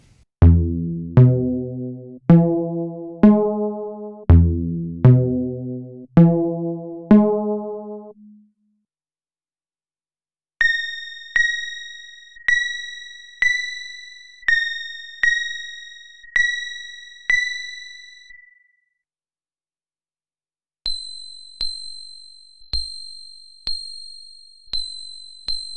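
A sequence of musical notes climbs in pitch across three groups, moving from low, rich plucked tones to higher, pure beeping tones and then to still higher, thin tones, each note struck and decaying in a steady rhythm with pauses between groups.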